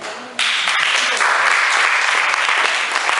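A church congregation breaks into loud, sustained applause that starts abruptly and fills the space evenly, a dense wash of many hands clapping with no voices rising above it.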